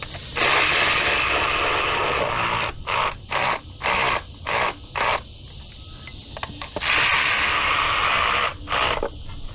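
Cover bolts being tightened with a power driver or ratchet: long buzzing runs at the start and end, with a quick series of short, evenly spaced mechanical bursts between them, all close and fairly loud.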